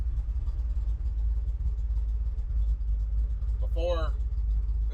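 A 1959 Chevrolet Apache truck engine idles steadily with a low, continuous rumble, and a brief voice cuts in near the end.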